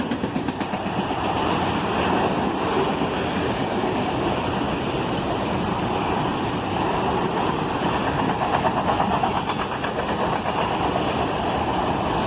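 A CSX freight train rolling past at close range in the evening, carrying BNSF Automax auto rack cars, with a loud, continuous rumble and steady clatter of wheels over the rails throughout.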